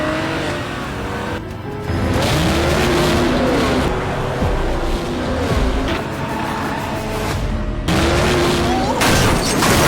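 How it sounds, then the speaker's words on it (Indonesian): A taxi chases a police car until the police car flips over, with loud engines revving, tyres squealing and skidding, and a crash-like burst amid fast driving; a narrator's voice is heard over parts of it. "Kemudian Dogi membuat mobil polisi itu terbalik."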